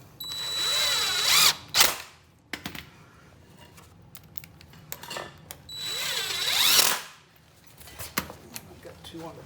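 Power drill driving screws into a pre-drilled wooden pocket door frame, two loud rising whirring bursts several seconds apart, each ending in a tight bind, with clicks and handling knocks between.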